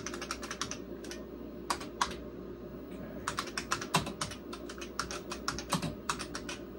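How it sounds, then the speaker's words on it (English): Rapid bursts of typing on a vintage IBM PC/XT keyboard, with crisp, clacky keystrokes arriving in quick irregular runs separated by short pauses, close and clear over a faint steady hum. "Keyboard's working fine, though."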